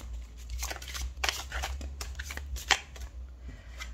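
Tarot cards shuffled by hand during a reading, a soft steady riffling and flicking with a few sharper snaps, close by and without talk.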